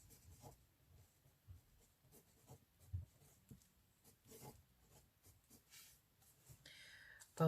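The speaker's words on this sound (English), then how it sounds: "Just going to write on here." A pen writing on a sticker for a Christmas collage gluebook: soft, scratchy strokes come in short, irregular bursts close to the microphone, faint overall, with a louder clunk at the very end.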